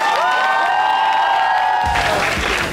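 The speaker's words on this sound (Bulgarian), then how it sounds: "Дайте един много хубав рунд аплодисменти и викове за ФСС." A crowd of students at a university freshers' weekend event cheering and whooping, then breaking into loud applause, close and dense throughout.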